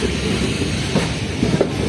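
The 05514 Jaynagar–Samastipur passenger train running, a loud, continuous rumble with occasional wheel clacks heard close up from on board.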